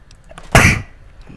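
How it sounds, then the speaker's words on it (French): A single short sneeze bursts out close and loud, lasting a fraction of a second, alone against a quiet background. "Un petit éternuement"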